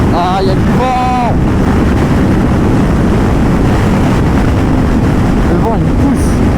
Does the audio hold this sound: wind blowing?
yes